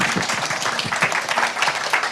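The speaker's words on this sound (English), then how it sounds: "Okay, so now everyone, give yourself a clap." An audience at a 2025 storytelling session of a children's book conference claps together in a lively, uneven burst of many hands, lasting about two seconds without talk.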